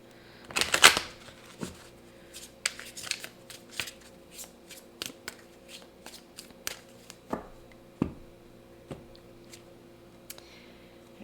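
Tarot or oracle cards shuffled by hand for a reading, a burst of riffling at the start followed by scattered soft card snaps and flicks, close and alone against a low steady hum.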